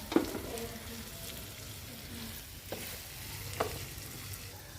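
Eggs cook in a fried onion masala, giving a quiet steady sizzle with a few faint stirring taps against the pan.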